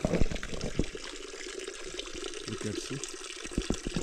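Drinking water runs from a spout on a trail near Manichuda in Nepal, a soft, steady trickle with scattered splashes and drips, quiet and close, with no talking.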